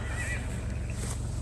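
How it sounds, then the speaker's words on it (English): Horse neighing nearby at night in a field during a shooting outing, a single loud whinny over a low steady background rumble. "Even the horse agreed."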